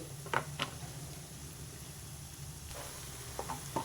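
Egg masala fries in a pan, a soft low sizzle running throughout, with a few brief scrapes of stirring near the start and the end.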